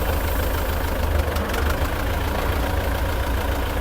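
A tractor engine runs close by with a steady, dense rumble at constant loudness and no talk.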